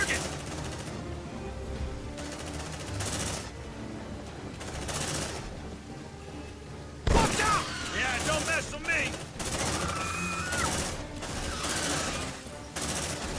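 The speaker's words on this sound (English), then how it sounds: "Light them up! Focus fire on target!" Rapid bursts of gunfire crackle through a squad firefight in the video game Aliens: Dark Descent, loud, repeated volleys in an irregular rhythm, with a heavier barrage kicking in partway and continuing under the game's background sound.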